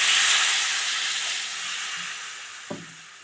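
Vinegar poured into a hot pan of gooseberry pickle gives a strong, bright hiss that slowly fades over a few seconds, ending with a soft knock.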